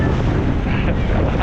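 A jet ski riding on the sea in the Florida Keys, heard as a loud continuous roar of engine, water and wind buffeting the microphone, with no pauses.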